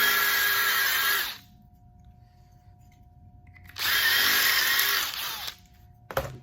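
A step drill bit bores a hole for a tachometer mount in two loud, high whining bursts separated by a quiet gap, ending with a short clatter.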